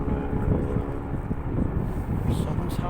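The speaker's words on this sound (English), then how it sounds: "The helicopter there, ambulance is taking off." An air ambulance helicopter lifts off near a road race course, a steady low rumbling drone with wind buffeting the microphone, heard from some distance as a continuous roar.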